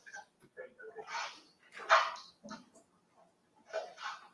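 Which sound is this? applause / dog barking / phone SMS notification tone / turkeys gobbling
dog barking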